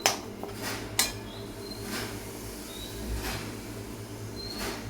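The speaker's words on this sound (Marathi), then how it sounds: "तर आता आपण गूळ टाकून घ्यायचा आहे याच्यामध्ये" Roasted fine semolina in a pan as jaggery goes in for halwa: two sharp metallic clanks of a utensil against the pan, then low scraping and light clinks over a steady background hum.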